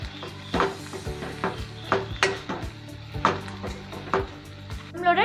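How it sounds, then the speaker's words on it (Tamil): Chicken Manchurian mixture being stirred in a pan with salt and pepper, a spoon scraping and knocking the pan in a regular rhythm, close and clear over a steady low hum. "சேர்த்துட்டு நல்லா கிளறி விட்டுக்கோங்க."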